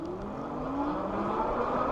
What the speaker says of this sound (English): So here we go, full throttle.